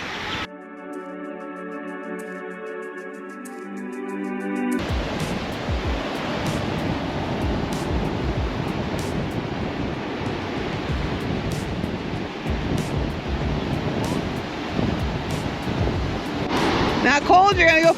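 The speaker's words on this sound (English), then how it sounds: "Made it to the East Coast and the Atlantic Ocean." Atlantic Ocean surf on a beach near Charleston, South Carolina: after a few seconds of steady tones, a constant loud roar of breaking waves takes over, mixed with wind buffeting the microphone.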